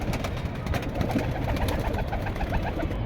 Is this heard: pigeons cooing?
yes